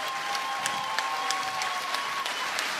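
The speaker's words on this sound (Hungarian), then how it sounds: "Hatalmas tapsot kérünk nekik is." An audience claps for contestants at the results of a competition show, a dense, steady burst of applause that stays even for a few seconds.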